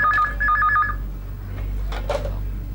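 A telephone rings in a domestic TV-drama scene, a bright warbling electronic ring pulsing in two quick bursts near the start over low room hum, then fading out as faint movement follows.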